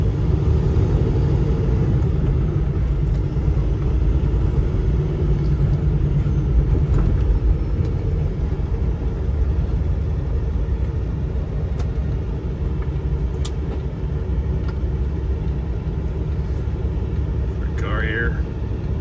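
A 2016 Peterbilt 579 truck cruises with a steady, heavy low engine rumble and road drone that persists throughout. Someone talks briefly over it.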